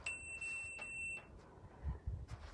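A workout interval timer sounds its alarm as a steady, sustained beep for about a second, followed by a weaker repeat, then fades under low room noise and a few thumps from a home strength and conditioning session.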